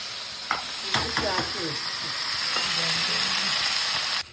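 Vegetables fry in a dry pan with no oil, a steady close sizzle and hiss running throughout, with a few sharp scrapes and clinks early on.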